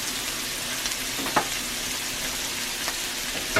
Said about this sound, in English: Now with the heat low on the skillet here, I'm going to throw in a nice big knob of butter.